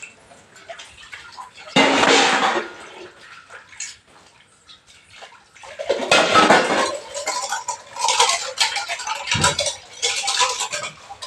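Dishes and pots being washed by hand with running water, scraping and clinking in uneven bursts, close and fairly loud, with water splashing in between and no talk.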